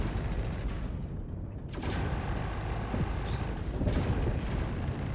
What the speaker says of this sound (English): Making sure that cannons are going too.